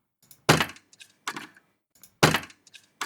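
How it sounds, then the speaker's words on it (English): A lock click Foley sound with denoising artifacts: two sharp broadband clicks, each followed by a smaller secondary tick, repeating as a close, dry loop with brief silences between. "So this first one is a lock click sound"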